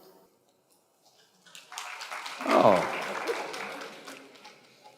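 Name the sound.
audience clapping hands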